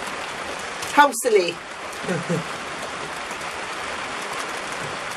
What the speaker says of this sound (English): it started to rain